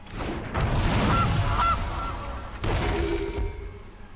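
A goose honks twice in quick succession as a card is played in the MTG Arena video game, short nasal game sound effects over a soft background of game music.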